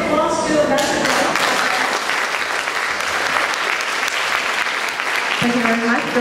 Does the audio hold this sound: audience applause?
yes